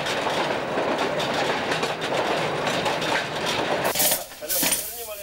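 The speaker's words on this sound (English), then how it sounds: "Today's miners travel to the coalface by train." A mine train carrying miners to the coalface rumbles along the rails with rhythmic clickety-clack and metallic clinks, loud and continuous before a brief change near the end.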